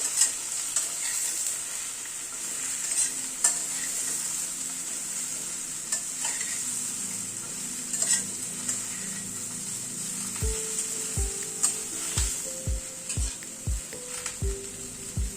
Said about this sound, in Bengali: নুন হলুদ দিয়ে পটলটাকে আলুর সাথে একসাথে আবার একটু ভেজে নেব